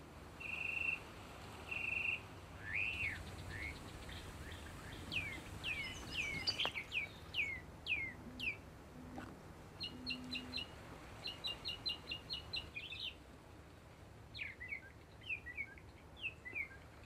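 Spring migrant songbirds such as warblers and thrushes sing in a quiet natural setting, with clear, repeated high chirps and trilled phrases from a few birds at moderate distance over a soft background hum.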